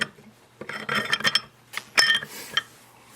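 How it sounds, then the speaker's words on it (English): Winchester Model 12 shotgun bolt being slid back into the receiver and pushed forward during reassembly, making a close, dry run of metallic scrapes and light clicks in several short bursts. "Just gonna put our bolt back in"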